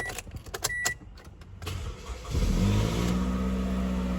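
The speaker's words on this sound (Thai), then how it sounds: "ขออนุญาตสตาร์ทรถ" Clicks and a short chime, then a 2012 Toyota Camry 2.5G engine cranks and catches, settling into a steady idle hum that stays close and continuous.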